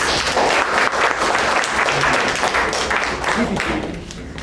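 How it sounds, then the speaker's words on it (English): Audience applause at a club meeting, a continuous broad wash of many hands clapping, loud and sustained, tapering slightly toward the end. "Give her a big round of applause."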